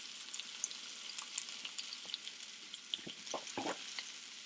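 Potatoes fry in a pan for a pizza, giving a steady quiet sizzle and crackle with a few soft clinks near the end.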